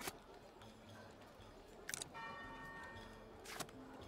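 Two separate bell strikes from a newly built church in the video game Foundation ring out over a soft, steady ambient background.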